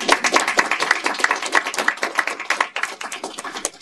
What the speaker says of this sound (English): I invite you to give them a round of applause